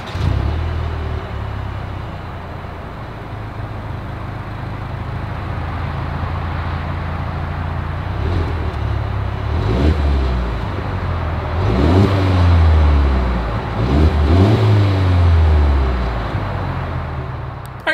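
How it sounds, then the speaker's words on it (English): A 2022 Mercedes-Benz GLE 350 engine idles steadily, then revs up several times in rising, throaty bursts through the exhaust, loud and close. "As always, here is that exhaust clip."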